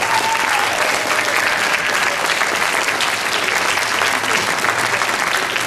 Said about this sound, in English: if you can give a big round of applause to my good friend Jeff Barnhart.